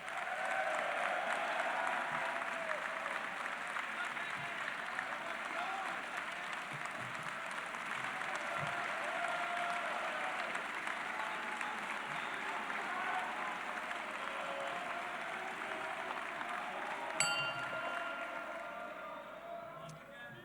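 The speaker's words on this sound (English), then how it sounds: "Let's give our moderator a round of applause." Sustained applause from a large crowd, steady and dense throughout, with a brief sharper clap near the end.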